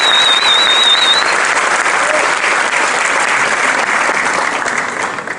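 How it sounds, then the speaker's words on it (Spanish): Loud, sustained applause from a crowd cheering children at an educational event, a dense unbroken wash of clapping that fades slightly toward the end. "Démosles un aplauso apoteósico a estos niños."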